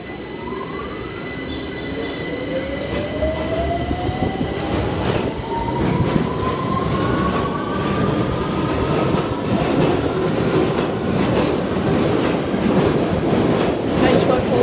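A London Underground Victoria Line train pulls out of platform 4 at King's Cross St Pancras, its traction motors whining upward in pitch over steady wheel rumble, rail clatter and squeal, loud and close throughout.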